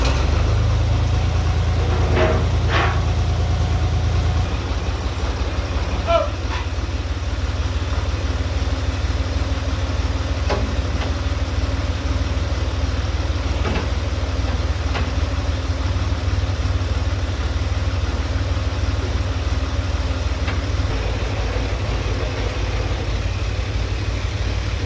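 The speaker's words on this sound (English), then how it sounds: "he's gonna lift me up in the tractor" A tractor engine runs at a steady idle while lifting during a shop rebuild, a loud continuous low rumble with a few faint knocks and clanks over it and no voices.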